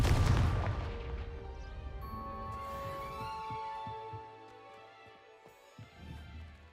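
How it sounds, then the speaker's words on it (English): Confringo spell blasting pumpkins in Hogwarts Legacy: a loud deep burst at the start decaying into a ringing magical tail with soft tonal shimmer and scattered small thuds. "Go ahead and try it on the pumpkins. Confringo!"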